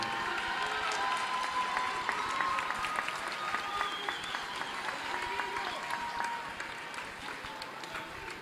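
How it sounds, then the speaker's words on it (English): Fans in a high school basketball gym applaud senior players, dazzlers and cheerleaders, a sustained roar of clapping from a large crowd with some voices mixed in, holding steady and easing slightly near the end. "let's have a huge round of applause for your senior dazzlers, cheerleaders, and basketball players."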